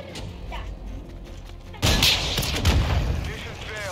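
Rocket launcher explosions in a multiplayer shooter video game boom loudly, a sudden heavy blast hitting midway and rumbling on, following quieter gunfire and game noise.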